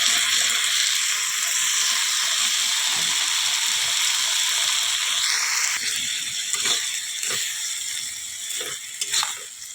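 Spice paste is fried in a pan with a curry of Malabar spinach, potato and eggplant, giving a steady loud sizzle. Clinks and scrapes of stirring follow later.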